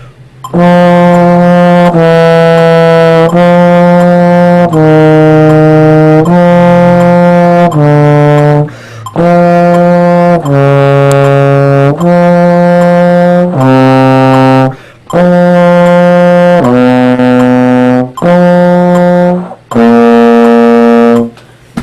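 A trombone plays slow long tones, each note held a couple of seconds with short breaths between, loud and close, stepping through different pitches.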